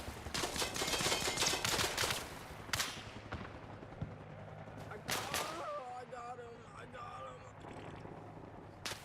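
Gunfire in the Arma Reforger military sim video game crackles as faint, scattered distant shots and short bursts, heard under people talking.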